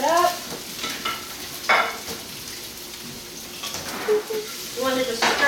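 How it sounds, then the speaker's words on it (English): Chopped onions, peppers and garlic sizzle in hot oil in a pan while being stirred, with soft scraping strokes and a light crackle, close and alone. "braise like in hot oil all these veggies just to get the aroma and taste out"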